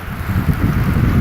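Wind gusts outdoors across a Blackstone griddle, a steady low rumbling buffet with no talk, like wind noise on a microphone.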